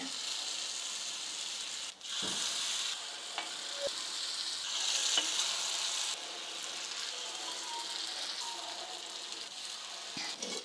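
Rava paddu batter sizzles and fries steadily in a hot paddu pan, a continuous close crackle with a few faint clinks and scrapes along the way.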